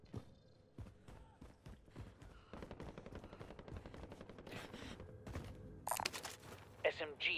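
Rapid bursts of light machine gun fire in a Call of Duty match, loud and near, with repeated clattering volleys and sharper cracks layered over a voice speaking throughout.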